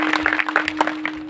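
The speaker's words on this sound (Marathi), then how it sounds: "जोरात टाळ्या वाजवा, जोरात वा." An audience clapping loudly, a brief burst of dense, rapid handclaps heard close.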